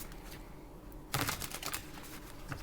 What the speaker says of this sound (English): So I'm just gonna shuffle the cards